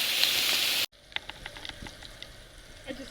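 Butter sizzling around turkey wings frying in a pan, a loud dense hiss that cuts off abruptly, followed by quieter scattered pops and crackles.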